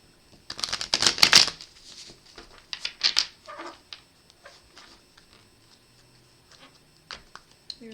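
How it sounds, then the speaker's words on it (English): Tarot cards being shuffled by hand, a couple of quick riffling bursts near the start followed by scattered soft taps and slides of cards, close and fairly quiet. "We'll give these cards a few good shuffles."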